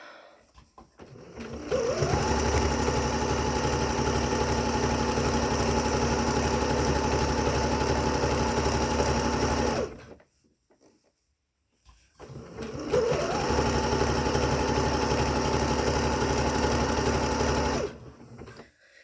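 A sewing machine stitches a pair of underwear in two long steady runs, each winding up and humming evenly for several seconds, separated by a short silent pause.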